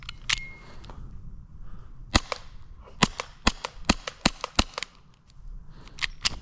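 An airsoft pistol firing BBs at a target with sharp, snappy cracks, a couple of isolated shots followed by a quick run of about a dozen in an uneven rhythm, close and loud.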